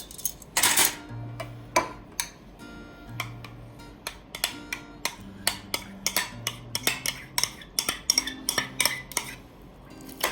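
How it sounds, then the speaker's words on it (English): A metal spoon clinks and scrapes against a dish again and again while barbecue sauce is spread over short ribs, with light, irregular taps and clatters and no talking. "I'm just using the spoon to apply this barbecue sauce."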